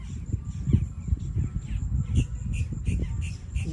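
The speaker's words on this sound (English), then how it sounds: "Y'all hear these birds chirping loud as hell?" Crows caw repeatedly outdoors along with other bird calls, a run of harsh, fairly close calls over low background rustling.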